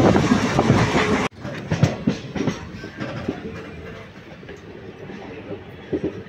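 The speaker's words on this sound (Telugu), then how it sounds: "ట్రైన్ అయితే స్టేషన్కి వెళ్తుంది." A train travels toward the station at Manmad, with a loud rumble and wind noise at first, then steady clickety-clack of wheels on rail joints heard from on board.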